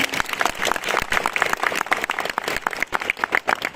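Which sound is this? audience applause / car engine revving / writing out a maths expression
audience applause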